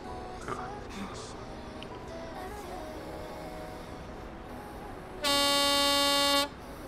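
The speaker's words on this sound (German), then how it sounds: "Wer hupt denn jetzt hier?" A truck air horn in Euro Truck Simulator 2 multiplayer blares once, a loud steady blast of over a second, following quiet game sounds and a voice.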